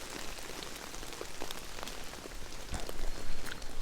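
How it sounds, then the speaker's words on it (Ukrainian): Heavy rain patters steadily on leaves and ground in a forest, a dense continuous hiss with scattered louder drops, growing slightly stronger toward the end. "В лісі почався сильний дощ."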